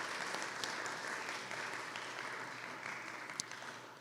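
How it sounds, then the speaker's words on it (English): Steady applause from an audience at a live benefit concert for a coat donation drive, a dense continuous clapping that holds even throughout, with no talk over it. "let's give everybody a round of applause for donating"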